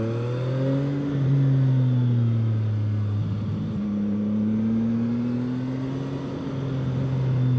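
A CFMOTO 675NK motorcycle engine pulling under throttle on the road, a steady loud mid-pitched drone that dips briefly as a gear changes, then rises again smoothly, with wind rush underneath and no talk.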